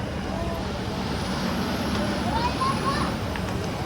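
A semi truck rolls past in the truck lane at a truck show, its engine a steady broad rumble with a brief air-brake-like hiss, under faint crowd murmur.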